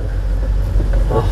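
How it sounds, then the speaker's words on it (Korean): A manual-transmission car's engine runs steadily during a driving lesson, a loud, constant low rumble heard from inside the cabin throughout. "엔진 소리 잘 들어봐봐"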